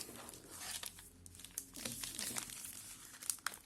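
Plastic wrapper of a large Milka hazelnut caramel chocolate bar being opened at its resealable edge, giving close, irregular crinkling and crackling with a few sharper tearing snaps, without speech.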